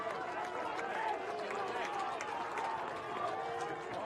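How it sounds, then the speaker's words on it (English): Crowd and dugout cheering at a Milford Legion baseball playoff game against East Springfield after a sharp ground-ball base hit, a steady broad roar of voices holding loud throughout with an announcer's talk mixed in. "a big cheer out of the Milford dugout and out of these fans as well"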